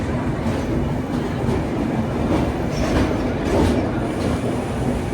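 Steady rumble of the Bokaro Express running from Alleppey toward Dhanbad, heard from on board, with continuous rail noise and faint clickety-clack throughout, loud and unbroken.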